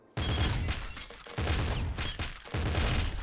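Assault shotgun firing in the video game Nuclear Throne, four loud close bursts of layered shotgun blasts in quick succession, each with a short decaying tail.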